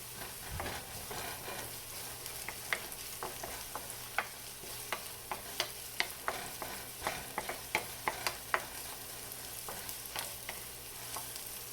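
Vegetables with crushed ginger sauté in a hot pan, a soft continuous sizzle broken by a run of distinct scraping stirs and light utensil taps growing busier toward the middle.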